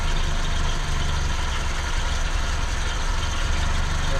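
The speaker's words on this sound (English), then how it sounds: "Get it to idle here for a second." A Chevy Vega engine, an old car being revived after 23 years off the road, idles steadily with a low, even rumble that stays loud and close for the whole stretch.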